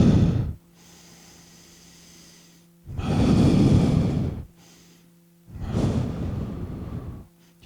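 A person breathes during a breath sensor demonstration, with three long, loud exhales and inhales spaced a few seconds apart, close to the microphone, over a faint steady hum and no talk.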